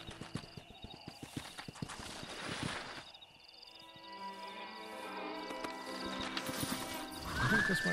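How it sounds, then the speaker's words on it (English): Hooves clip-clop in a quick steady rhythm, then a horse whinnies, in the video game Red Dead Redemption, with a faint musical background throughout. "Yeah, I got a horse."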